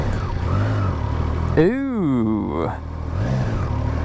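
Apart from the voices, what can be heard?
Triumph Tiger Sport 660 motorcycle triple engine starting up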